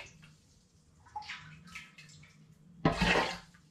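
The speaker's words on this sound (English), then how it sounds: "I'm going to begin by initially doing a bit of ladling because it's a big heavy pan" Water for blackberry cider is ladled in a big heavy pan, a few soft splashes and trickles followed by a louder pour-like splash near the end.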